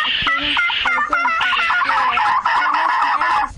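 Chickens at a market cluck and squawk in overlapping, close, fairly loud calls, with a busy run of repeated clucks and no talking.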